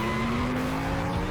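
Diecast toy cars released down a racing track, giving a continuous rolling, whirring rumble of small wheels on plastic track that holds steady and fairly loud throughout the brief moment.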